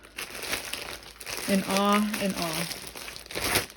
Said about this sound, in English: So all the kits come in this resealable bag.